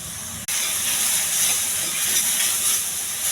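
Curry leaves and ginger garlic paste frying in a pan with mushrooms, giving a loud, continuous sizzling hiss that starts abruptly and holds steady throughout, with no voices.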